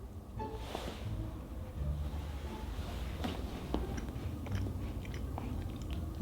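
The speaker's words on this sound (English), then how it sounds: "let's give it a bite" Close, quiet crunching and chewing after biting into a dry shortbread Dolce de leche Kiss cookie, with soft crumbly crackles scattered over several seconds.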